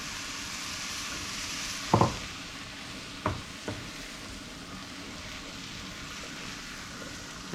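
Celery hitting a hot pan for a chicken crescent wreath, a steady frying sizzle with a few sharp clatters and stirring scrapes near the start, then continuous hiss with no talking.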